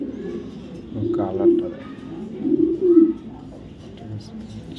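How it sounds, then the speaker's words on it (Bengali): A 2024 Afsan grizzle racing pigeon coos in low, soft throaty bursts close by, while someone talks over it. "2024 সালের একটা আফসান গ্রিজেল কবুতর"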